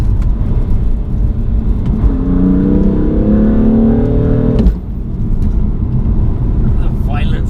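BMW F80 M3 with its S55 engine accelerating, a loud rising engine note climbing through the gears before an abrupt drop, heard from inside the car with someone talking over it.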